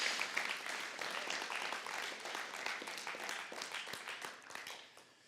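A church congregation gives a warm round of applause, dense even clapping from many hands that holds steady and then tapers off at the end.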